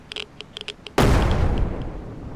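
A grenade goes off in the zombie survival video game SurrounDead: a single loud, sudden boom after a second of quiet, faint clicks, followed by a long rumbling tail that slowly fades.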